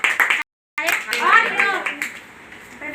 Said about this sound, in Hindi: ताली बजा सकते हैं।